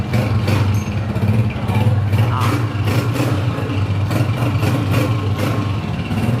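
A 2020 Honda 125 motorcycle idles close by with a steady low engine rumble and rhythmic putter, running continuously under faint background noise.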